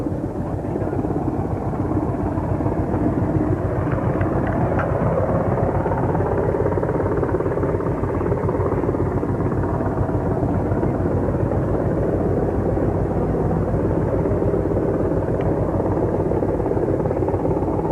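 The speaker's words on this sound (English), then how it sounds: "a formation of aircraft from Carrier Wing 17, led by Commander Mark Ziegler of Fighter Attack Squadron 83, will fly over in a final air wing salute" Military carrier air wing aircraft from Carrier Wing 17 flying over a decommissioning ceremony for the USS Saratoga, a steady loud roaring engine drone that holds throughout without a break.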